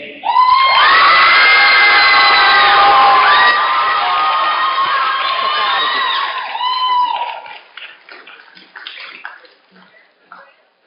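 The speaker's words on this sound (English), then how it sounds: "please keep the applause to a minimum" At a debate final, a crowd erupts in loud, sustained cheering, whooping and applause for several seconds. The noise then breaks into scattered shouts and claps that gradually die down.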